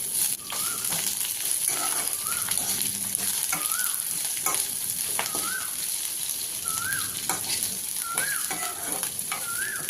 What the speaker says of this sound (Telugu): ఇప్పుడు 2 క్యాప్సికమ్ని సన్నగా పొడవుగా కట్ చేసుకుని వాటిని కూడా వేసుకుని వేయించుకోవాలి